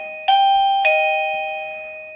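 A wireless doorbell's two-note electronic chime rings out, ding then dong, each tone clear and sustained before slowly fading away in a quiet room.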